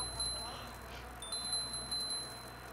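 A bicycle bell rings in repeated quick dings, several short bright rings in a row, over background noise from a bike race.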